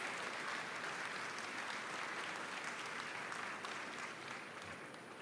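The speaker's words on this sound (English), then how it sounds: "I think that deserves another big round of applause" Sustained applause from a ceremony audience honoring the newly installed ninth president of Chiang Kai-shek College at his investiture, a dense steady wash of clapping that holds for several seconds and eases slightly toward the end.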